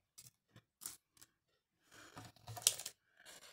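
Scissors cut material for a customized bag, making a few short, close snips, then a longer run of cutting with a sharp metallic snap, all quiet with no talking.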